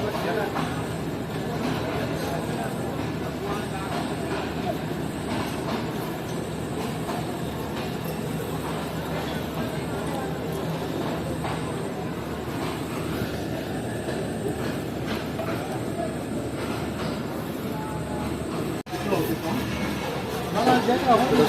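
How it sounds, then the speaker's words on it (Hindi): The 31 Up Jinnah Express led by a GU40 locomotive at Rohri railway station, a steady rumble of rolling wagons and wheels passing close by, with someone talking over it. "ये है कराची और लाहौर के दरमियान चलने वाली 31 अप जिन्ना एक्सप्रेस, जिससे हमारी रोड़ी रेलवे स्टेशन पर ही मुलाकात हो गई"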